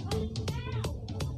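Cartoonish meows from a cat in the mobile game Soul Knight, several short mewing calls in quick succession over the game's steady background music and effects.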